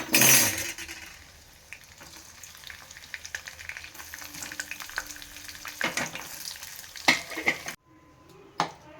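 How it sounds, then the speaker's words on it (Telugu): Paneer cubes fry in hot oil with a steady sizzle as they are stirred, and a metal utensil clinks against the pan now and then, close and moderately loud, ending in a few sharp scrapes. "మంచిగా క్యూబ్స్ లా కోసి మంచి ఫ్రై చేయాలి ఆయిల్లో ఫ్రై చేసి"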